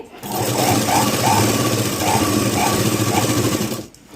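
A sewing machine stitches a blouse, a loud, steady mechanical whir with a fast rhythmic clatter that runs for about four seconds and then stops abruptly.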